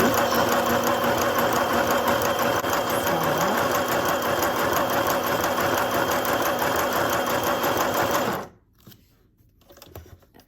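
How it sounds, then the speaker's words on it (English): A portable sewing machine stitches a letter pattern in a steady, fast mechanical whir with rhythmic needle clatter for about eight seconds, then stops and leaves quiet handling noises. "Now I'm moving the hand wheel toward me, and I'm going to stitch out H."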